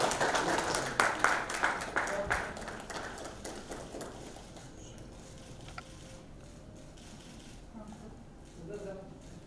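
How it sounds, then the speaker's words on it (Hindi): Audience applause at a poetry album launch event, a burst of clapping that is loud at first and then gradually fades into quieter room murmur. "तालियां हो जाए, please."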